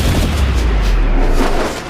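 A loud, deep explosion booms and rumbles through the whole moment in the video game Marvel's Midnight Suns, a sustained heavy low roar with no talking over it.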